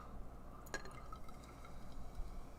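Hazy IPA from Anchorage Brewing Company poured into a glass gives a quiet liquid trickle with a brief glassy clink, faint and close over a low steady hum.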